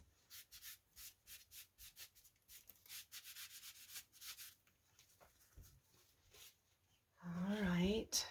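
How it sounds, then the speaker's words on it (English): A baby wipe rubbed against a painted mixed-media journal cover in repeated short strokes, quiet and close, then a voice speaks at the end. "take a baby wipe and just kind of rub some of it out"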